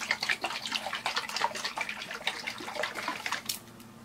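A bottle holding a homemade oil painting medium of three mixed ingredients is shaken hard, with liquid sloshing in quick, steady rhythmic splashes for about three and a half seconds before stopping.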